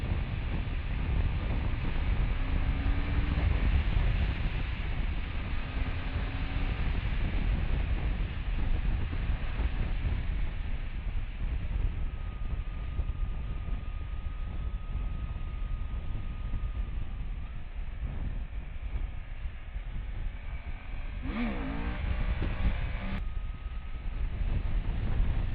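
A Suzuki GSX-8S two-cylinder motorcycle rides along a road, with a steady engine drone buried under heavy wind roar throughout, continuous and loud.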